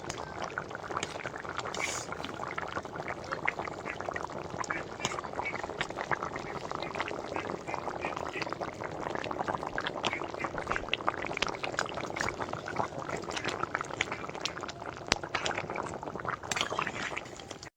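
Rohu fish curry with mankochu taro bubbles steadily in a pot, a soft continuous simmer with faint popping, quiet and close throughout.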